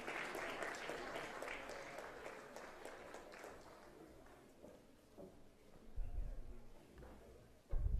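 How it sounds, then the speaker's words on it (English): Audience applause at a large televised legal event marking 75 years of the Indian Constitution, a soft, distant wash of clapping that gradually thins, with a few low bumps near the end. "Let's keep that round of applause going."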